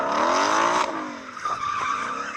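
Car tyres skid and squeal through a drift, a loud sustained screech with engine roar that fades after about a second, then two short squeal bursts follow.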